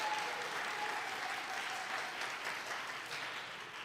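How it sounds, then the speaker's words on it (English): A large audience applauds in a sustained, even wave of clapping that fades slightly toward the end. "And yes, we can applaud that."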